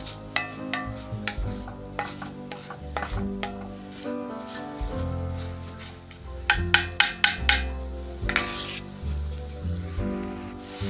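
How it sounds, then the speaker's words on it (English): Onions sautéing in a pan for crock pot lasagna, a continuous sizzle broken by repeated sharp clacks and scrapes of a utensil stirring against the pan. "all we're going to do is saute the onions for 1 to 2 minutes."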